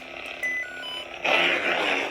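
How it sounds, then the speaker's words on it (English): Short electronic beep from a Sabers Forever Fallen v2 lightsaber hilt while its blade colour is changed, a faint tone followed by a brighter, louder swell of hum and noise. "then color change, you get that beep"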